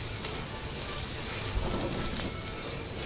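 Thick meat sizzling on a grill rack set over a portable picnic gas stove, a steady close crackling hiss with no talk.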